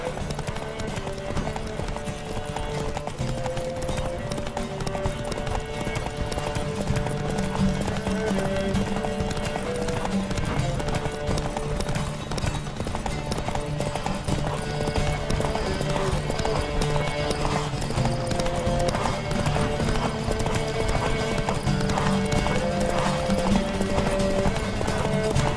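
Galloping horse hooves in a race in The Witcher 3, a steady rapid clip-clop running throughout, close and even, over a bed of game music.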